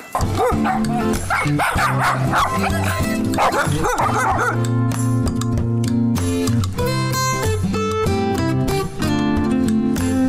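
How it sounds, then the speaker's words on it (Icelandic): Four puppies yip and bark constantly in a loud, overlapping chorus of high-pitched barks and whimpers, heard close by with no break. "Þetta eru 4 hvolpar"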